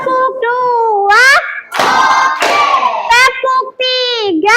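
A group claps hands in short, sharp bursts, with voices calling out between and over the rounds of clapping. The sound is loud and close.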